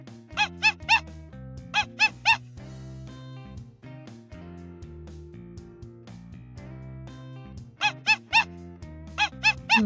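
Shrill, squeaky monkey calls in rapid bursts of three or four, heard near the start and again near the end over a steady background melody.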